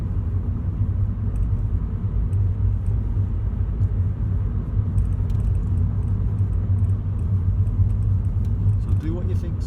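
A car in third gear cruising at about 27 mph on a 30 mph road makes a steady low engine hum and road rumble from inside the cabin, even and unbroken.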